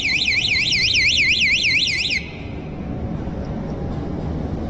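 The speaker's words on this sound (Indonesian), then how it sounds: "Tiba-tiba ghost trap sensor bunyi kayak gini." A ghost trap sensor beeps on its own, a shrill warbling electronic tone rising and falling rapidly for about two seconds before cutting off, leaving a low background hum.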